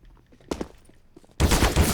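Rifle fire in the game CS:GO: a few scattered shots at first, then a loud, dense burst of rapid automatic fire at the end.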